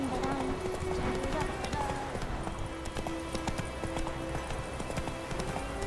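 A horse's hooves clip-clop at a quick, steady pace in the video game The Witcher 3, continuous and fairly close, with a voice talking over them.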